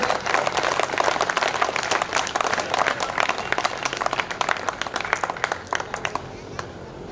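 Crowd applause at a Hindi poetry gathering (kavi sammelan) for Maharana Pratap Jayanti, loud, dense clapping from a large audience that thins slightly toward the end.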